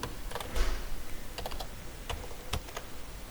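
Scattered keystrokes on a computer keyboard as text is entered, close and crisp, arriving in short irregular clusters with gaps between them over faint room noise.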